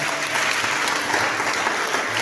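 A church congregation applauding during a French-language worship service, a dense, steady wash of clapping from a crowd indoors that holds at an even level throughout.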